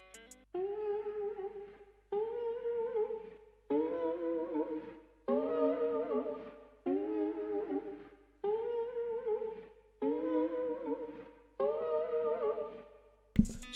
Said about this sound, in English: this literally sounds just like a vocal. It's almost like a dark vocal, except it's synth